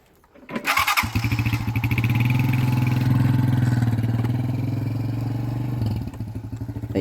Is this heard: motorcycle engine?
yes